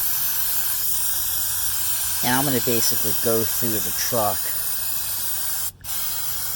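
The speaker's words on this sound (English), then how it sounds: "So then you can see when you spray it how it will actually go on." Waxoyl rustproofing is sprayed from an aerosol onto rusty areas underneath a 1991 Range Rover Classic, a steady close hiss throughout while someone talks over it, ending with a brief sharp noise.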